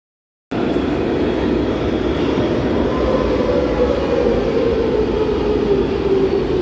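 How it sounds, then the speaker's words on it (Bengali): A metro train pulls into a station with a loud, steady rumble and hiss that keeps up without a break, with no talking over it. "এদিকে দেখতেই পারছো আমাদের মেট্রো চলে এসছে।"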